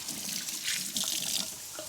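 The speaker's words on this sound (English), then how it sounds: "I wash my hands." Steady running water from a tap splashing into a sink, continuous and close, with hands moving through the stream and no voices.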